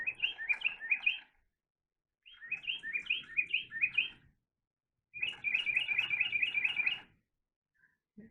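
Hanging toy parrots sing electronic chirping bird calls in three rapid bursts of repeated tweets separated by short pauses, fairly faint and close, with no talk.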